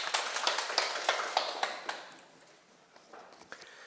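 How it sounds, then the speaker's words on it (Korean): Audience at a Sunday lecture clapping in congratulation: a short burst of sharp, fairly close claps that fades after about two seconds, then a few scattered claps. "이분에게 우리 축하의 박수를 한번 보낼까요?"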